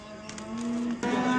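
Simmental cattle mooing at a livestock market, one sustained low moo that swells and holds to the end, heard fairly close with no talk over it.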